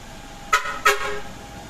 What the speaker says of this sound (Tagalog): ito nilagyan natin ang air horn, na lightning air horn by Nelson Lebet